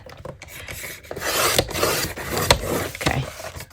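Fabric edge of a multi-pocket sewing project being trimmed, close rasping snips and rubbing strokes in a quick uneven series, fairly loud and alone.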